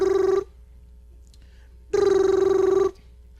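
Telephone rings twice, a short electronic ring burst then a longer second one after a pause of silence, loud and close with no talk.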